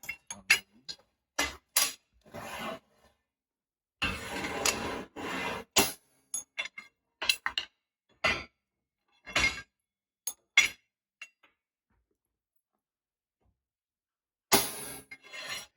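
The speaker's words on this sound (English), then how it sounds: "Just gonna chisel a mark in there." A hammer drives a chisel to mark a forged iron stair rail, giving sharp metallic clinks in short irregular bursts separated by silent pauses, close and fairly loud.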